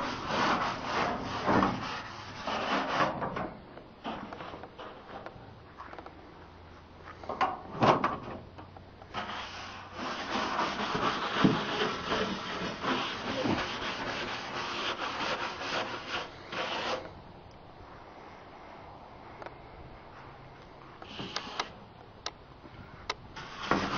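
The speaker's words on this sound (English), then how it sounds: "Okay guys, so you just start by scrubbing, you know, paying attention to the" Greasy 11 hp Craftsman tractor being scrubbed hard with a brush, dense rasping strokes up close in uneven bursts with short pauses and occasional knocks.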